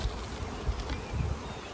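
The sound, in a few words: honeybees buzzing around beehive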